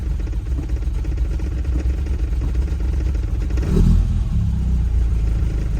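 A Lotus Elan restomod's engine runs steadily and loudly while driving, its note swelling briefly in a rev just before the four-second mark before settling back to a constant drone.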